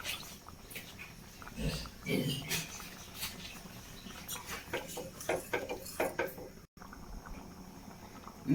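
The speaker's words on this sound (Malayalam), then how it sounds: "പുളിയൊക്കെ ചേർത്ത് നന്നായി തിളച്ച് വന്നിട്ടുണ്ട്" A pot of colocasia leaf curry with tamarind boils at close range with soft, irregular bubbling and popping, fairly quiet and steady throughout.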